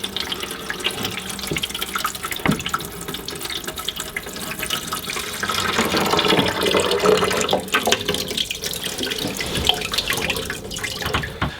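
Coolant from a Toyota MR2 Mk1 cooling system pours steadily into a drain tray, a continuous splashing stream that swells louder midway and holds, with no talk over it.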